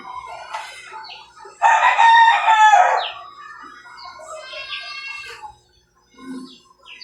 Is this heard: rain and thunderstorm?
no